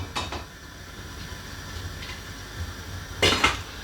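A few metallic clanks of a metal pot being set down on the stove for cooking sticky rice, the loudest pair near the end, over a low steady background hum.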